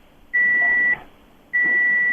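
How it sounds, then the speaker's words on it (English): Loud, steady electronic beeps sound in the background of a phone call, two long tones of equal pitch separated by a short gap. "There's a beeping in your background"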